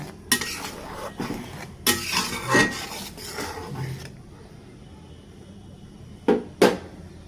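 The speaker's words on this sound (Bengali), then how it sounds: "এগুলোকে ভালো করে মিলিয়ে দিতে হবে মশলা কষানোর জন্য" A spoon or spatula scrapes and knocks against a pan, mixing turmeric, chili powder and salt for a radish and fresh river prawn dish, several irregular clattering bursts, a quiet pause, then two sharp knocks near the end.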